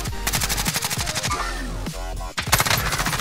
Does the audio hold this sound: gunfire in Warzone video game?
yes